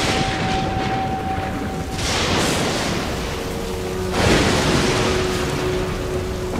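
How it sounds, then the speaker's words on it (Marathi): Stormy lake water churns in a continuous roar of wind and crashing waves, loud and broadband, surging stronger near the end, presented as a sound effect. "तोच एकाएकी सरोवरात इतके मोठे वादळ उठले की त्यांची होडी लाटांनी झाकून गेली."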